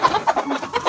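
Organically raised laying hens, young layers a few weeks from starting to lay eggs, cluck in a busy flock, with repeated short calls overlapping close by.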